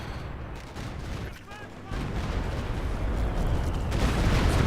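An artillery barrage in the Company of Heroes 2 strategy game rumbles as dense overlapping blasts and gunfire. The roar is continuous and loud and swells toward the end.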